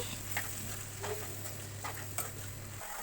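Bitter gourd and onion pieces fry gently in a pan, a soft steady sizzle broken by a few light stirring scrapes, close but quiet.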